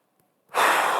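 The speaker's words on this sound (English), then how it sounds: "take a breath" A person draws one sudden, loud, close breath in through the mouth during EFT tapping, starting abruptly after a brief silence and continuing steadily.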